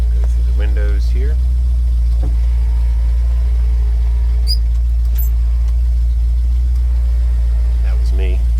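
Restored 1963 Ford Thunderbird engine idling on choke, a loud, steady low hum close by, with someone talking over it and a few faint squeaks and clicks.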